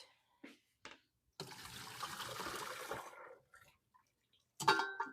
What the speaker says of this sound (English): We're going to strain our noodles here.